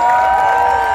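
A crowd cheers and claps for the Pau da Bandeira log carriers at the 2023 Barbalha festival in Ceará, a dense, loud, steady roar of many voices filling a brief moment.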